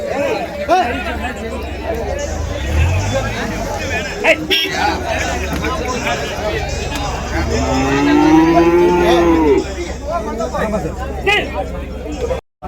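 Cattle, including native bullock-cart cattle, low and moo amid a busy crowd of chattering voices at a livestock market in Uthangarai, with one long, loud moo standing out near the end.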